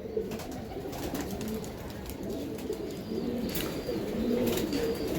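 English tippler high-flyer pigeons coo continuously in a loft, overlapping low throaty calls rolling on without pause, fairly close and steady.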